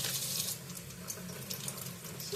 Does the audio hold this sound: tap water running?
yes